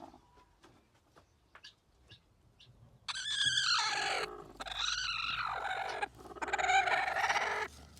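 A few faint chirps, then a hen's loud, drawn-out clucking calls in three long bursts, close and dominant, as she sits on her eggs.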